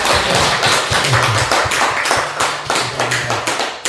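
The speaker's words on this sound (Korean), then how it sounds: "천보 등재 축하드리는 박수를 보내드리겠습니다" A church congregation claps in congratulation for a family's heavenly registration, a loud, close burst of hand claps with some thuds and taps that keeps going steadily the whole time.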